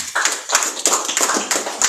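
Church congregation at a Sunday service clapping in unison, a steady run of sharp, close hand claps repeating at an even rhythm for a couple of seconds.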